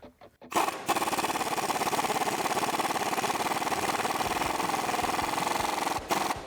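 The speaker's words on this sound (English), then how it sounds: "Now we can go ahead and grab our socket and tighten it down." A socket tool tightens the sway bar end nut on a 2006-2018 Ram truck suspension, a close, loud, continuous rattling buzz running steadily for about five seconds, framed by brief clunks at the start and end.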